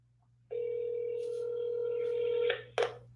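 A telephone number being dialed for a call: a steady tone holds for about two seconds, then short keypad beeps follow near the end, fairly clear with no talk.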